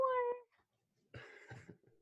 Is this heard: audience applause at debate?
no